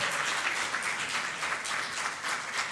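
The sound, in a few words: congregation applauding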